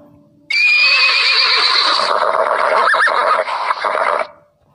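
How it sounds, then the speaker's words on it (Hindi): A single horse gives one long, loud, close neigh that rises and then trembles down through several quavering pulses before cutting off, with nothing else around it. "अब देखिएगा इसी घोड़े की आवाज़ सुनिएगा,"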